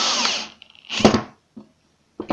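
Electric drill driving a screw into wood in short bursts, a whirring spin, a pause, a louder grinding burst with a thump, then brief final pulses.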